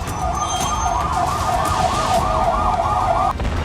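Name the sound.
ambulance siren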